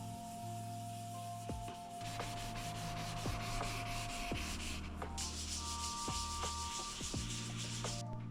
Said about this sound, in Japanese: 1日乾燥させた後、紙やすりの400番と600番で塗面を研磨していきます。